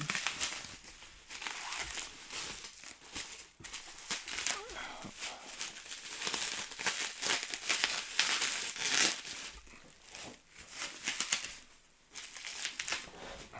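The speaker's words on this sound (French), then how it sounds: "bien emballé dans du papier bulle" Unwrapping a parcel packed in bubble wrap, with continuous close crinkling and rustling of plastic in uneven bursts while a person talks over it.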